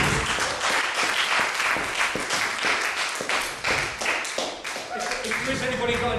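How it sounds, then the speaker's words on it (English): An audience gives a round of applause after a talk, dense, steady clapping from a room full of people, sustained and fairly close throughout. "I think we should give a round of applause"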